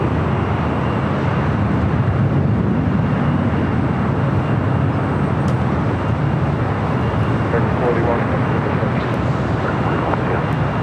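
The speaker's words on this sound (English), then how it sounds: "Dreamliner up next for takeoff." A Boeing 787 Dreamliner taking off at LAX, a steady broad roar of jet engines holding loud and constant throughout, with a low rumbling body and hissing upper tones that persist without break.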